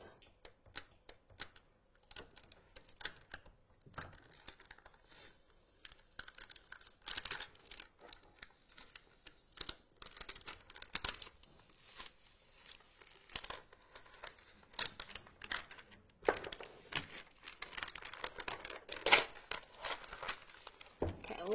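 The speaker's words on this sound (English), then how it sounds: "Go ahead and slowly remove that transfer tape." Transfer tape is peeled slowly off cut vinyl while making personalized notebooks on a Cricut, giving faint, intermittent crackling and rustling with occasional sharper crinkles.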